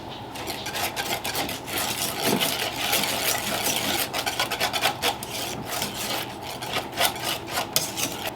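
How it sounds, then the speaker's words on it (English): Egg filling with pickle relish gets stirred in a bowl with a spoon, a steady scraping and rubbing that runs continuously, close and fairly loud, with no voices. "Alright, so we'll stir that in."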